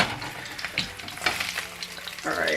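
Salmon fillet pan-searing in lemon garlic butter, a steady close crackling sizzle with occasional louder pops and a brighter burst of spattering near the end, no talking.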